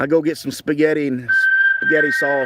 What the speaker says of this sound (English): You guys hearing that whistle, that warning? That's my phone.